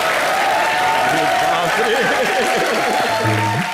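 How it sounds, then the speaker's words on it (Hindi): A studio audience applauds during a Hindi TV comedy show, a steady wash of clapping that runs throughout, with voices and some background music over it. "भाई एक बार तालियां बजवा दो।"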